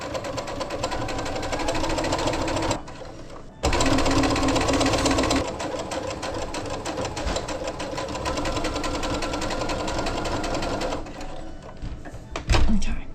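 Sewing machine stitching fabric for a budget RV Christmas decoration, running in loud steady bursts with short pauses and a clunk near the end.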